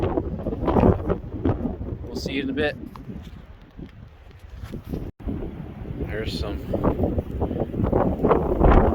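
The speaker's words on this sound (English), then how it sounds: "Try not to get blown over by this wind starting to pick up." Strong wind buffets the microphone in rumbling gusts while someone talks over it outdoors.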